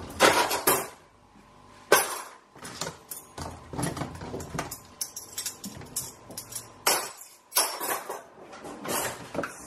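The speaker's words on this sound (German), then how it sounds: "Mama macht hier das Besteck schnell" Metal cutlery clattering and clinking in irregular bursts as it is sorted and put away into a kitchen drawer at home, with knocks and a brief cupboard-like thud between clusters, close and fairly loud, no talking.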